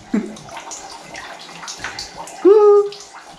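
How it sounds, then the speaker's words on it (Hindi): Water streams from a homemade shower rigged in a home bathroom, a steady close hiss throughout, with a brief tonal cry rising over it near the end. "इसके लिए झरना हमने घर में बना दिया बाथरूम में।"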